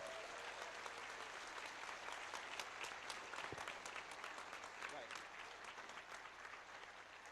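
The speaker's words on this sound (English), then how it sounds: "let's have a round of applause for Derek" A large audience gives Derek sustained applause at the DEF CON 13 hacking conference award ceremony, a dense, even roar of many hands clapping that holds steady throughout with no pauses.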